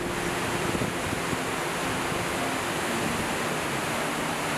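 Deep, steady roar of a massive African waterfall at peak flood, broad unbroken rushing water with heavy mist, constant and loud throughout with no voices.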